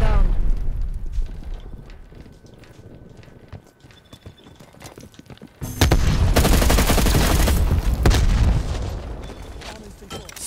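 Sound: gunfire in Call of Duty Cold War video game

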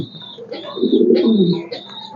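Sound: racing pigeons cooing

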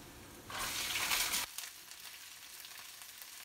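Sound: stir-frying zucchini with bean sprouts

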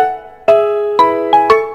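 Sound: messenger app default voice call ringtone

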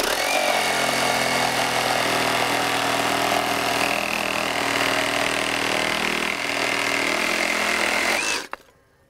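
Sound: Metabo HPT MultiVolt 36-volt reciprocating saw in oscillating mode

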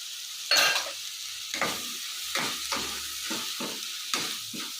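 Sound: cluster bean curry frying with ginger garlic paste

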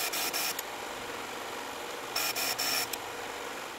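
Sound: sharpening the bevel of a Stanley 9 1/4 block plane blade

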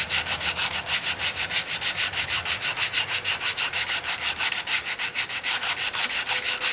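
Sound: sanding turned wood with 120 to 240 grit sandpaper

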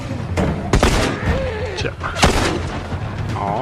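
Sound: gunshots in video game The Last of Us

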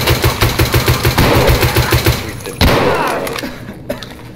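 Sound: pistol gunshots in Escape from Tarkov video game

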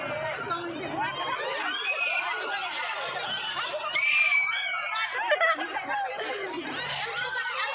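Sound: people shouting at a fair

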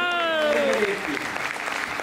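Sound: applause

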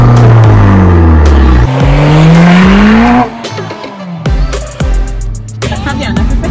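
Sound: Abarth car driving on the road

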